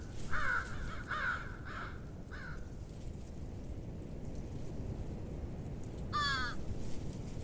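Crows at a late-winter deer site in Wisconsin give a series of harsh caws, several in a row early on, then a final loud call after a pause, over a steady outdoor hiss.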